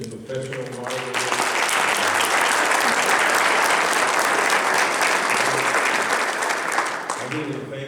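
A crowd at a city council candidate forum claps enthusiastically in sustained, dense applause that swells quickly and tapers off near the end, with brief talk before and after.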